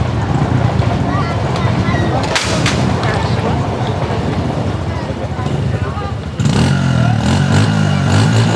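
A stunt motorcycle engine revs hard at the Nogent Legend Festival stunt show, a loud, continuous roar that surges even louder near the end, with an announcer talking over it.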